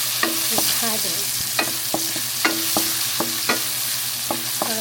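Aromatics sizzle steadily in a hot pan while a utensil scrapes and stirs in repeated clinking strokes, close and fairly loud, with no talking, during the cooking of fried noodles.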